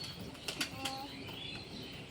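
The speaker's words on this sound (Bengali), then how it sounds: "ওইদিকে কিন্তু পায়রাগুলো চলে গেছে গ্রিট খেতে, মানে মাটি টাটি খাচ্ছে ওরা।" Pigeons coo softly at close range while a few brief bursts of wing flapping break through, set against a steady outdoor background hiss with no talking.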